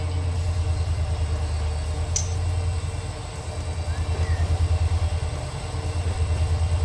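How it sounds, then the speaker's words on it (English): A set of diesel locomotives pulling forward in the Run 8 train simulator game, with a deep, steady rumble and rhythmic throbbing that pulses faster in the later part, close and loud, with no talking. "Take the whole set of locomotives forward."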